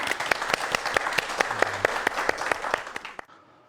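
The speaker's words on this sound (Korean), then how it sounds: "박수 부탁드립니다." An audience claps for a speaker being introduced at a science lecture, a moderate ripple of individual handclaps fairly close, fading out abruptly near the end.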